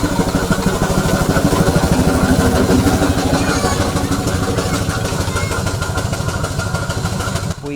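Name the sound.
Victoria traction engine running during a ride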